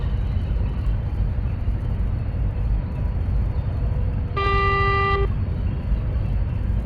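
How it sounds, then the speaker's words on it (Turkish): Truck horn in the Truckers of Europe 3 driving game, one sustained honk lasting about a second, loud over a constant engine and road drone. "Kornaya bastım. Bir de şöyle bastım."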